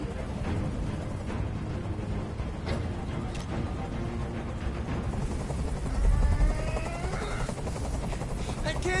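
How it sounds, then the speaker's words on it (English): A helicopter hovers in a tense hostage scene in the video game Detroit: Become Human, its steady rotor drone and whine filling the background while voices talk over it. "Tell that helicopter to get out of here."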